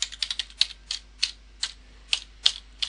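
Letters of the alphabet typed on a computer keyboard, about ten crisp, close keystrokes at an uneven, steady pace, with nothing else audible.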